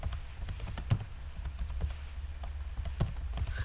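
Fingers tap a computer keyboard in uneven bursts of quick clicks, close and moderately loud, while an invoice is being edited in an office.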